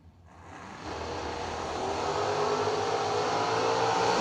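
Drag race cars, among them Lou Greco's Pontiac GTO, rev hard at the start line of a drag strip: the engine roar builds quickly from near silence and then holds at a loud, sustained level without a break.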